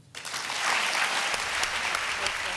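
Audience applause for Nobel Peace Prize laureates, a sudden burst of steady, dense clapping from a large crowd that rises quickly and holds at an even level.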